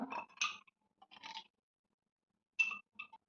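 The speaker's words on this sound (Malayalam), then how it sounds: "ഇനി ഇതിലേക്ക് ഓരോ ഐസ് ക്യൂബ് ഇട്ട് കൊടുത്തേക്കാം." Ice cubes drop into glasses of raw mango juice, giving a few short, close clinks and scrapes in separate bursts with quiet gaps between them.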